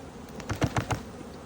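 Honey bees from a strong, pollen-laden hive fitted with a pollen trap buzz in a few short, close passes, with quiet gaps between them.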